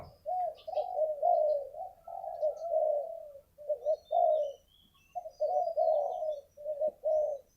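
Large spotted doves coo in a repeated run of soft, mellow phrases. The calls are clear and fairly close, with short pauses between bursts and faint chirps in the background.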